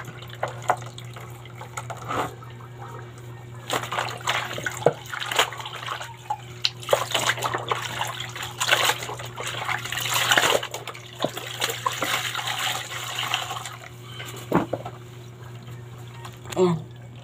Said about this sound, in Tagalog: babanlaw na ako guys kasi para puti, banlawan ko.